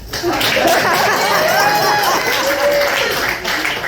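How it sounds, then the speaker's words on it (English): Audience at a stand-up comedy show in D.C. breaks into applause mixed with cheers and chuckles, a steady, fairly loud wash of clapping lasting a few seconds. "This is where y'all clap."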